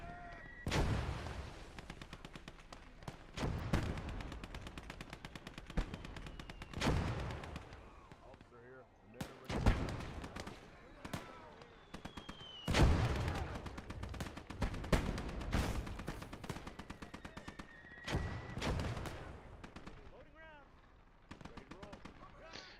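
Heavy artillery and gunfire in a USA versus Soviet alternate-history war video game: repeated loud, booming cannon blasts at irregular intervals with crackling small-arms fire and rumbling between them, a voice talking intermittently.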